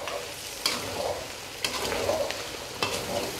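Fresh cream being stirred into chicken karahi frying in a pan, with a steady close sizzle broken by three sharp scraping strokes of the spoon.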